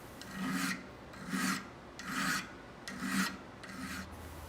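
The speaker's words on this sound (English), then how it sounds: "There is something extremely satisfying in removing hard steel with a sharp file." A sharp file rasps across hard steel on a damascus woodworking chisel in five slow, even strokes, close and clear, with short pauses between them.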